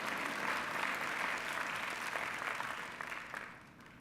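Applause breaks out from the audience at a university presidential inauguration, a soft, distant wash of clapping that holds steady and then thins out and fades toward the end.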